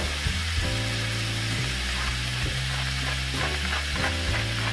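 Ground meat frying in a pan while being stirred, a continuous close sizzle with a rhythmic scraping of the utensil repeating every second or so, no talking.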